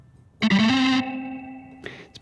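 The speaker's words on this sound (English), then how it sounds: "It's because of the distortion." A Roland GO:KEYS 5 keyboard played through its distortion effect gives a loud, buzzy gliding tone that rises and then holds before fading into a long sustain, with a shorter distorted burst near the end.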